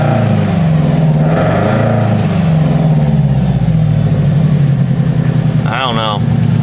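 Engine of a Subaru WRX converted to a JDM EJ205 idling with RPM sagging low, a steady close rumble with people talking over it throughout.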